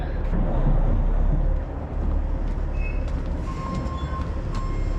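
A heavy diesel engine of a Western Star semi truck rumbles loudly and steadily, deep low-end throb with some rattling and faint higher tones on top, at a farm during harvest.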